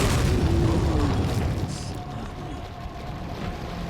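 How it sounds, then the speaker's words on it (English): A grenade explodes in Resident Evil 4 HD, a heavy boom at the start that rumbles and fades into a lingering low roar, loud and close, with no clear talk. "I'm gonna try to kill them all with a grenade"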